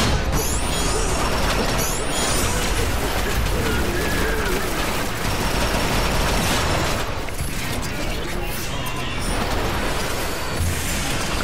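Gunfire rattles in a chaotic multiplayer video game match, dense bursts of shots and crashes over a loud, continuous wash of game noise throughout.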